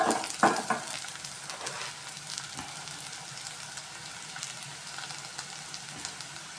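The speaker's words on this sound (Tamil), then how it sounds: "வெங்காயம் பூண்டு மிளகாய் எல்லாம் நல்லா வதங்கி வரணும்." Steady sizzling of onion, garlic and chili frying in a hot pan, with a few louder crackles and stirring scrapes near the start, then an even hiss.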